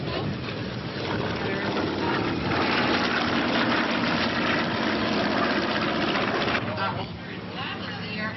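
A vintage military propeller aircraft taxiing at an air show, a steady droning engine roar that swells slightly as it turns, heard under a commentator talking over a public address.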